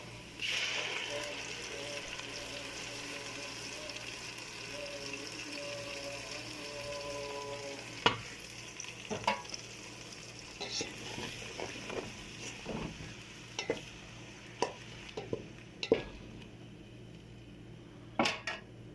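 Tomato and chili paste going into a frying pan for aloo baingan, then stirred: a steady low hiss with a scatter of sharp spoon clicks and scrapes against the pan, growing busier in the second half.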